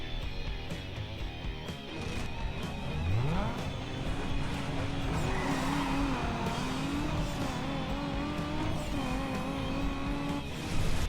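Cars drag racing in Need for Speed Underground 2, a loud continuous engine roar with a rising whine climbing through gear shifts, steady and close throughout.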